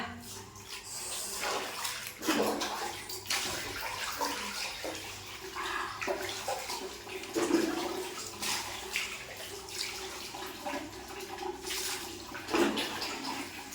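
Water splashing and pouring during a morning bath taken wearing a gamchha towel, with irregular splashes and louder bursts rising over a steady wet background, close by and moderately loud throughout.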